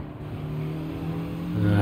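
A race car in Gran Turismo 7 accelerates out of a corner, its engine rising from a steady hum to a louder, building roar over under two seconds.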